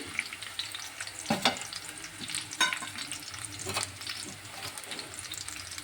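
Garlic and peanuts fry in a pan with a continuous close sizzle and crackle, broken by several stirring scrapes and knocks and no talking.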